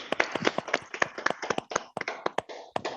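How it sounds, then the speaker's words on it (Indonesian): Applause in an online virtual meeting: a few people clapping in a quick uneven patter of sharp claps for about three seconds, close and thin-sounding, with no talk. "mari kita berikan aplaus untuk kita"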